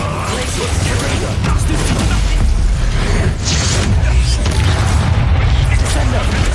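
A fiery Confringo spell blast from the Hogwarts Legacy game, loud booming explosive rumbles and crashes layered over continuous battle noise, with a voice shouting over the din.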